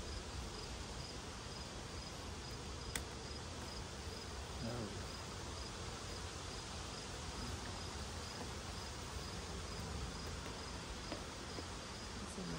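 Honeybees hum steadily around a hive while the queen is placed inside, a faint, continuous buzzing that stays constant throughout with no talk.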